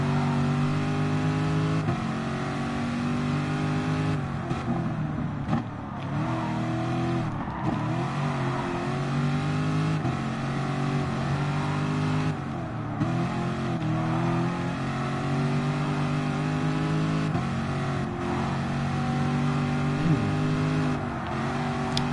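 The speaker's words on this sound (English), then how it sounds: "I'm flooring this Corvette." A Corvette in Gran Turismo Sport is floored, its engine revving hard and droning steadily throughout with rising and falling pitch sweeps as gears change, loud and continuous with no talk over it.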